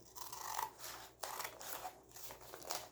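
Scissors cutting through paper while trimming an old sewing pattern envelope, with a few soft snipping strokes close by and no talk.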